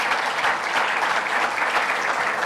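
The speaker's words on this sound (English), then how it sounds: "Yes, a round of applause, please." Loud, sustained applause from a convention audience at the International Propeller Club conference, thanking supporters with dense, even clapping throughout.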